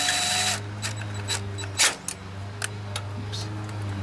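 Power tool tightening head bolts on a Briggs and Stratton OHV Intek engine: a steady whirring hum with a few sharp clicks and clanks near the workbench, a brief voice partway through.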